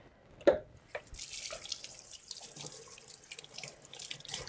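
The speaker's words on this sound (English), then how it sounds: "Okay, I'm going to rinse this." A container rinsed under a running kitchen tap, opening with a knock, then a steady close rush of water splashing and draining into the sink, with no talk.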